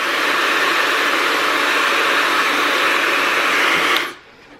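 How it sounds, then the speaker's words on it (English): A two-speed hair dryer blows with a steady loud whoosh for about four seconds, then cuts off abruptly and leaves only faint room noise. "2 speeds or powers or whatever that would be for a hair dryer"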